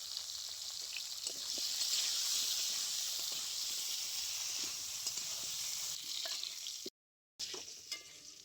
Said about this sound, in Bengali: আলুটা খুব ভালো করে কষিয়ে নিয়েছি।